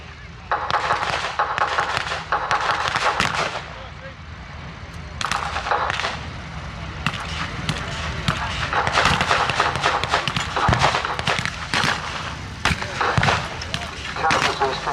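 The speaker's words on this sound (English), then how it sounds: "Soviet howitzers are continuing to fire back" Soviet howitzers firing in a World War II strategy video game, a steady barrage of heavy booms and cracks with battlefield clatter, loud and continuous throughout.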